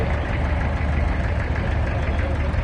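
A vintage 16-horsepower tractor engine idles steadily at a steam rally parade, a dense low chugging rumble with a rapid knocking pulse, close and loud throughout.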